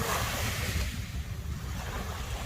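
Surf washes steadily along a beach on the southern French coast, a continuous broad hiss and rumble of breaking waves mixed with some wind, fairly loud and without any talking.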